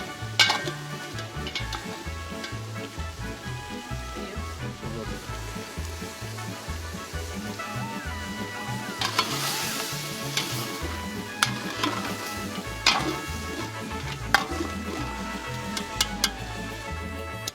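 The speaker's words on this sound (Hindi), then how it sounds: "गोश्त को कुछ खुशबूदार मसालों में तेज आंच पे भूना" Mutton roasts in fragrant spices over a high flame in a Kashmiri wazwan kitchen, a continuous close sizzle layered with scraping stirs and occasional metallic clinks of pots.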